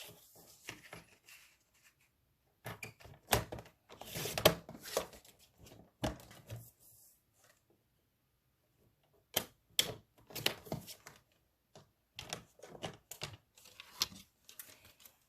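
Scissors snipping a small paper strip for a pop-up flip card, a series of crisp, close cuts in short bursts separated by quiet pauses.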